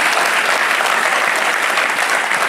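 Audience applause at a business leaders summit: dense, sustained clapping from a large crowd, steady and fairly loud throughout with no voices on top.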